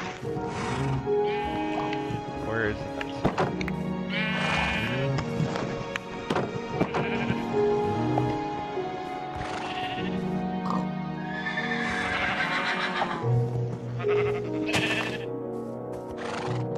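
Animal calls ring out in a Minecraft world, a series of loud, nearby bleating and neighing cries repeating irregularly over about seventeen seconds, with occasional clip-clop footsteps and no talk.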